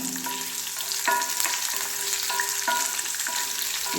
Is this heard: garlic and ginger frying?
yes